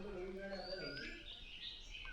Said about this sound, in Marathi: साईडने सगळा येणारा पक्ष्यांचा आवाज खूप सुंदर आहे